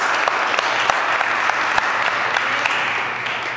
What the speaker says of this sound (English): Let's give God a hand clap praise.